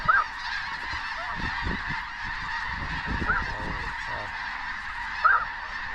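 A huge flock of snow geese in Saskatchewan honks continuously, a dense, loud wall of overlapping calls from many birds, with a few sharper nearby honks standing out.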